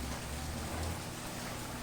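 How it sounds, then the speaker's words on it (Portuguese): Rain falls outside during a Bible study class, a steady, even wash of hiss with no distinct drops, moderately quiet and unbroken by talk. "aí diminuiu mais a chuva"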